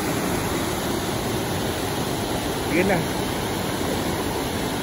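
Floodwater rushing in a strong, steady roar like a waterfall, loud and unbroken throughout, with a brief voice rising above it near the end.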